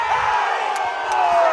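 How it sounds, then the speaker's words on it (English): At a Henderson County boys' high school soccer match, the home crowd protests a foul call with a brief swell of shouting and jeering voices, heard at a distance under a commentator's voice. "Henderson County crowd protesting a bit"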